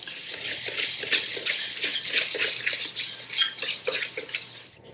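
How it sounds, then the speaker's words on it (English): A whisk clatters rapidly against a mixing bowl as brown and white sugar are stirred into a mixture, a busy rhythmic scraping and tapping that stays close and steady throughout, with no talking. "I'm gonna grab my whisk"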